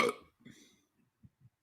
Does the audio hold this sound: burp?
yes